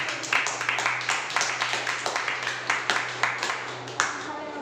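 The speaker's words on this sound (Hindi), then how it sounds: "प्रभु यीशु मसीह के लिए हम लोग जोर से तालियों को बजाएंगे।" A church congregation claps loudly for Jesus, steady rhythmic handclaps in unison, close and even throughout, over a low steady hum.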